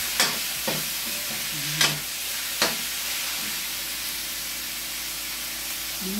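Meat sizzles and fries in a pan with sauce, a steady hiss interrupted by a few sharp clatters and stirring knocks near the start, with no talking.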